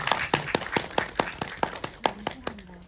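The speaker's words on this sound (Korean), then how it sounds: "박수 한번 부탁드려요" An audience at a Korean talk event claps in a brief, fairly sparse burst of distinct claps, about a dozen individual hits spaced unevenly over a few seconds.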